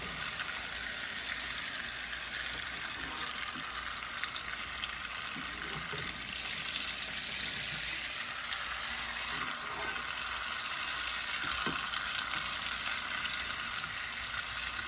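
T-bone steaks just flipped in a hot pan, giving a low, steady sizzle and crackle throughout with faint occasional clinks, nobody talking.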